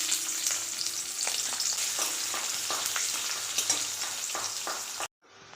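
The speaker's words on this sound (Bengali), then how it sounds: "আর আমি একটু পেঁয়াজ ভেজে নেব প্রথমে।" Onions fry in white oil in a wok (kadai) with a close, steady sizzle, broken by repeated scraping stirs until the sound cuts off abruptly near the end.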